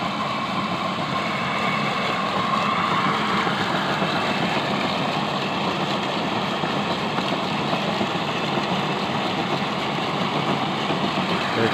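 A solar-powered, belt-driven water pump motor running in a farm field, a steady continuous mechanical drone with a low rumble and a constant whir, sustained without change throughout.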